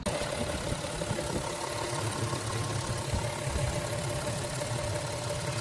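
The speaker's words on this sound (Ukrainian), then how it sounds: "газуємо, даємо обороти" An Audi car engine runs close by at a steady idle, a continuous even hum with a faint rhythmic knock and no noticeable rise in revs.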